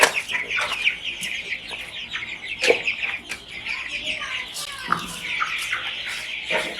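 Chicks in a chicken house cluck and cheep busily, a dense, overlapping chorus of short chirps and calls at close range with quieter background sounds mixed in.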